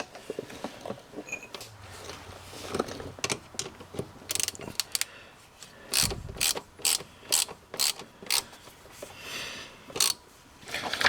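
A torque wrench ratchets in short bursts of rapid clicking while tightening the rear differential drain plug on a Kawasaki Brute Force ATV, close and loud, with quiet pauses between strokes.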